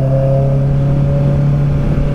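A Honda CB650R motorcycle pulls hard to overtake on a city road, its engine note a loud, steady high drone with strong harmonics held close throughout.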